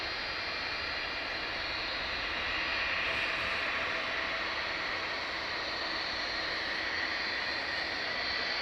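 An Airbus A321XLR arriving from Minneapolis at Dublin Airport on an overcast, misty day makes a steady, broad jet roar that holds at an even level throughout, with no voices.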